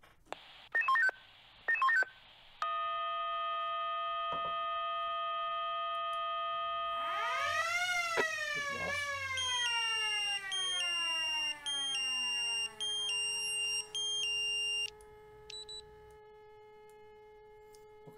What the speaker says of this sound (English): That sounds like a fire call.